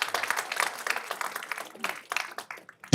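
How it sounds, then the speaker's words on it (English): An audience claps for a violinist at a live conversation event, uneven applause rising and falling in patchy bursts with a voice breaking through, ending in a sharp loud thump. "worth a little round of applause, I think."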